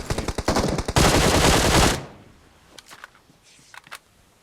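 Rapid automatic gunfire from a shooting game rattles loud and close in a burst of quick shots, ending in a dense roar, then drops to faint scattered pops and small clicks.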